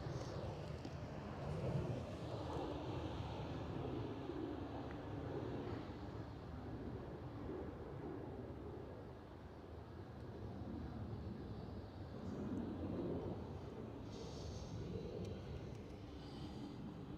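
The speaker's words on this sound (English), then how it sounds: "Korean Air vacated the runway" A Korean Air airliner on the runway at Schiphol, Amsterdam, gives a faint, steady, distant jet roar that swells and eases slightly, mixed with light wind noise throughout.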